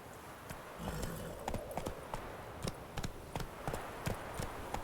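Hoofbeats of Roach, Geralt's horse in The Witcher 3, clip-clopping at a steady walking pace in a regular rhythm of distinct hoof strikes over a soft ambient game background, moderately close and fairly quiet.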